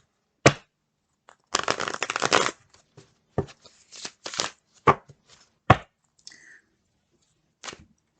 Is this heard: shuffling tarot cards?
yes